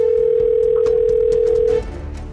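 A steady, loud telephone tone sounds continuously for nearly two seconds and then stops, with faint background noise underneath and no speech.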